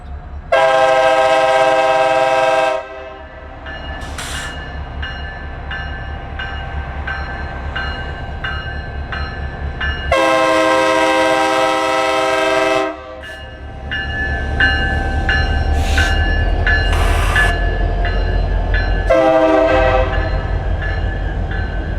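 Two RJ Corman ST70M diesel locomotives rumble steadily as they pull a passenger train past, with two long, loud horn blasts and a shorter one near the end over the heavy engine drone.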